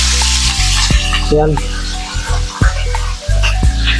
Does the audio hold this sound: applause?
no